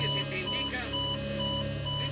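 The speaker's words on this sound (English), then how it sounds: "every unnerving alarm has been recorded on audio tape" Cockpit alarm captured on an aircraft cockpit voice recorder, a steady electronic tone with overlapping beeps droning continuously through the whole stretch over a low hum, faint and muffled with muddled voices underneath.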